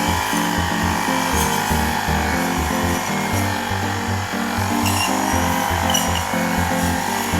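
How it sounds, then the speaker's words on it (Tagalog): A bladed grass cutter runs steadily on a rural farm, its engine droning loud and continuous with a shifting, rhythmic pitch as the blade spins, with no talking. "Pwede na mag-grass cutter si kuya"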